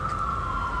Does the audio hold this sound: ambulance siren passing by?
yes